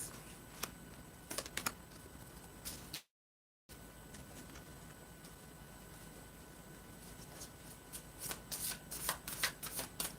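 Tarot cards being shuffled up close, with soft riffling and flicking bursts in quiet bouts, a brief gap, then more busy shuffling, no talking.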